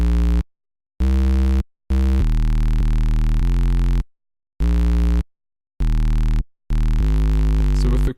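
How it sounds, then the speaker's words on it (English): A deep, chopped bass line from an FL Studio trap beat plays alone, sustained low notes cut off by abrupt silent gaps in a stuttering rhythm. "So here I've cut up the bass a little bit."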